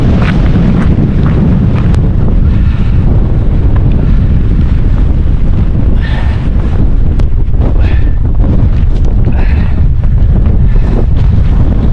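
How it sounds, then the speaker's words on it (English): Strong wind buffets the microphone on a coastal headland, a constant loud roaring rumble with gusty swells and no talking. "it shows that the wind today and how strong it is"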